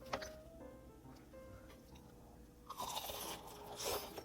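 Crunching bites into crispy fried shrimp dipped lightly in curry, close to the mic, with a sharp crunch at the start and a louder burst of crisp chewing in the second half.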